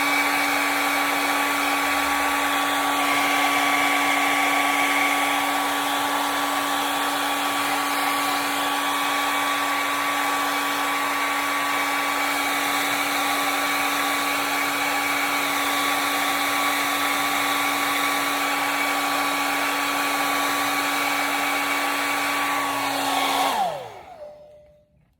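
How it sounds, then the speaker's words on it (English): A hair dryer blows on a wig unit with a steady, loud whine and airy roar for over twenty seconds, then switches off and winds down quickly into silence. "And we're going to use the blow dryer."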